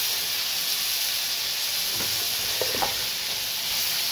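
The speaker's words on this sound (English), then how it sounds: "Remember, butter, garlic, whack that in, guys. Nothing's going to burn with the oil and the thing." Butter and garlic fry in oil in a pan while steak cooks, giving a steady, loud sizzle and hiss that runs the whole time, with a few faint clinks partway through.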